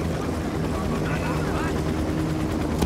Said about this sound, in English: that's an attack chopper.